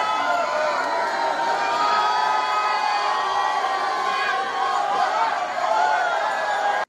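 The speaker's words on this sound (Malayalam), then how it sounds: "11:30 ആർപ്പുവിളികളുടെ അകമ്പടിയിൽ കൊടിയേറ്റം." A large crowd shouts and cheers at a temple festival flag-hoisting ceremony at Thiruvambady, a dense, loud and continuous roar of voices and whoops with no pause.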